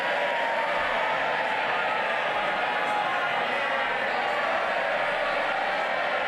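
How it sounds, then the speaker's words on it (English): Cheering and crowd noise in the House of Commons, a dense, continuous roar of many voices at moderate distance, steady throughout with no single voice standing out. "Where's all the cheering coming from?"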